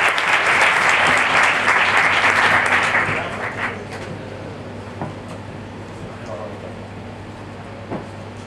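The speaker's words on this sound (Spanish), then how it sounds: "Le damos un aplauso para el Banco." A crowd at a Spanish business roadshow on e-commerce payments applauds loudly to welcome a Banco de Sabadell presenter, then the clapping fades away to quiet room tone.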